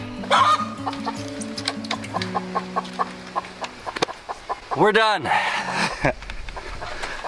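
Chickens on a backyard flock, a rooster crowing loudly mid-clip among repeated hen clucks and squawks, close by, with a person talking over parts of it.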